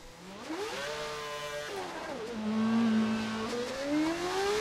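F1 race car from F1 2012 accelerating at full throttle, its engine note climbing steadily through the gears, loud and close, with a brief dip mid-run before rising again, no talk over it.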